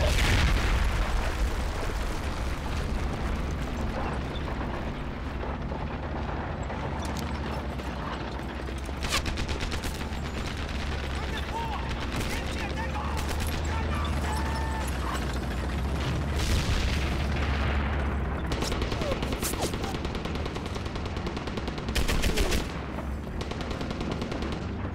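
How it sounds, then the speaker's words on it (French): Gunfire in Medal of Honor: Airborne, with a mounted machine gun among the weapons, comes as repeated sharp bursts and mechanical clatter over a rumbling battlefield bed for the whole stretch. "Une mitrailleuse."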